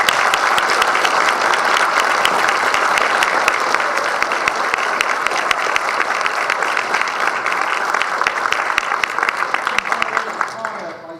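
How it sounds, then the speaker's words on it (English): Audience at a township council meeting applauding students for their essays: a dense, sustained round of clapping that holds steady for about eleven seconds before thinning out at the end. "Can we give them a big round of applause?"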